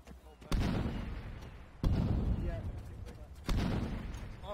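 Three heavy, booming gunshots or blasts in Arma 3, spaced about one and a half seconds apart, each hitting hard and leaving a long rumbling tail, with faint background noise between them.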